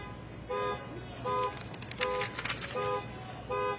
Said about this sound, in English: that horn honk is deliberate